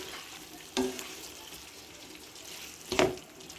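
Masala okra with lemon juice and ajwain being stirred in a pan over a faint steady sizzle, with two distinct scraping stirs at about one second and three seconds, quiet and close with no talking.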